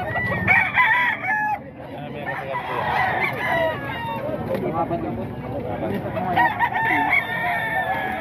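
Many chickens clucking with roosters crowing repeatedly, a busy, loud flock close by, with someone talking over the noise throughout.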